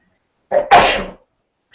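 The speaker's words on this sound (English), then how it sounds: "oh, I'm going to sneeze." A single close, loud sneeze, a short inhaled buildup and then a sharp burst, followed by silence.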